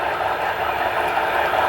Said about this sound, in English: And right now they're pulling a train of about 35 cars or so, nothing too big.